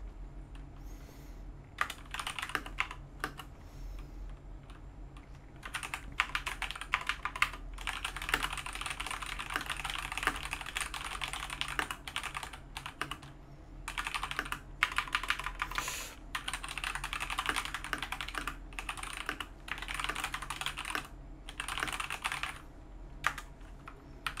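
Someone types on a computer keyboard in a quiet room, making rapid, close clicks in uneven bursts with short pauses between them. The typing is soft and continuous, with no voices heard.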